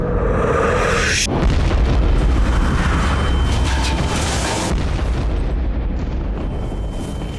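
A sudden, massive explosion of TNT and military explosive at the Capaci motorway exit bursts in after a brief hiss, followed by a long, loud roaring rumble that slowly fades.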